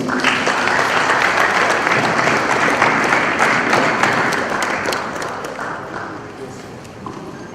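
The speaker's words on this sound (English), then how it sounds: "Please, another round of applause." A crowd at the launch of Edo State's technical talent development policy applauds loudly and evenly, the sustained clapping of many hands slowly fading toward the end of the clip.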